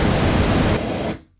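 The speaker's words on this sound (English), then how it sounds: "This is pink noise that I have" Steady, warm-toned hiss of EQ'd pink noise, loud and continuous, with the top end rolling off before it cuts out near the end.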